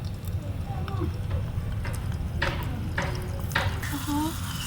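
Onions frying in a miniature cooking pan with a steady low sizzle and occasional stirring scrapes, with people talking alongside throughout.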